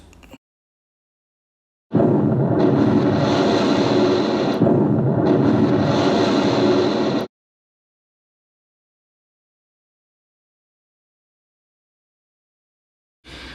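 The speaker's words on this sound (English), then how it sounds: "The torpedo strikes from Alderley hit Mutu in the bow" A torpedo explosion tearing into a warship's bow in a WW2 naval battle: one loud, dense roaring blast sustained for about five seconds and then cut off, with silence around it.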